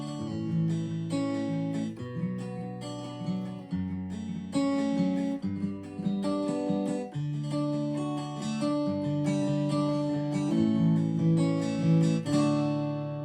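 Pachelbel's Canon in D played on an Aeroband guitar, a steady stream of clean picked chord tones moving through the familiar progression, loud and close with no voice over it.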